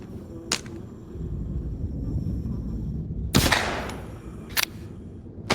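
Gunshots in the video game The Walking Dead: Saints and Sinners, a few sharp separate cracks with one heavier burst near the middle, over a steady low rumble of game ambience.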